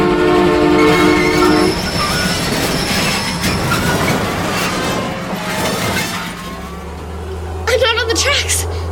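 A train jumps off a damaged track and bears down close: a horn blast and a heavy rolling rumble with clattering, then crashing, shattering metallic noise near the end.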